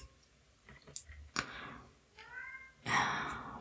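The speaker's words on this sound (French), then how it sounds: "Je sais pas si vous entendez encore mon chat" A house cat meows briefly indoors, one soft cry near the end after a few small clicks and taps, fairly close but quiet against a hushed room.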